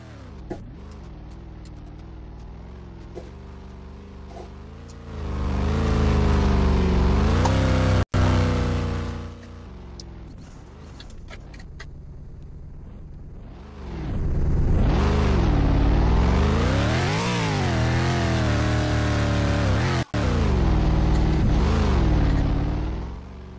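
A car drives through town in the Roblox car crusher game, its synthetic engine revving up and down in two long loud bursts of acceleration separated by quieter idling stretches.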